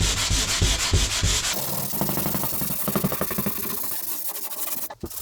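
Drywall joint compound edges being sanded to feather them thinner, a steady scratchy rubbing with rhythmic strokes that runs close and fairly loud throughout, with no talking.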